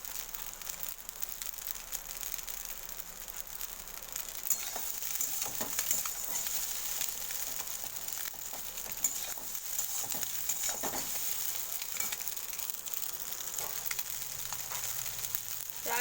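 Pasta frying in a pan, giving a steady, moderately quiet sizzle and crackle that holds evenly for the whole stretch, with no one talking.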